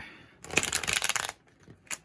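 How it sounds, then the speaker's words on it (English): A deck of playing cards is riffled in a quick rattling burst about a second long, followed by a brief soft snap of the cards settling. "I'm gonna give it 3 more shuffles"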